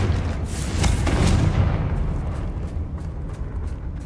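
Confringo spell blast in Hogwarts Legacy, a loud booming explosion with a sharp initial burst that rolls off into a fading rumbling tail, with no talk over it.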